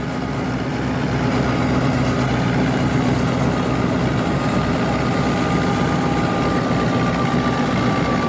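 A Fiat 640 tractor with an 85 HP engine runs steadily while driving a chopper machine through its PTO, giving a loud, continuous droning hum with a steady whine, close by and unbroken.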